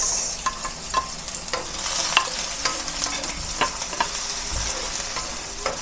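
Garlic and onion sauté in a hot pan for pork stew, a constant close sizzle broken by regular scraping knocks of a spatula stirring, with no talking.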